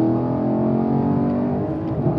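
A 2018 Chevrolet Camaro SS 1LE pulls hard with a loud, continuous engine roar heard from inside the car, its pitch holding steady throughout the short burst.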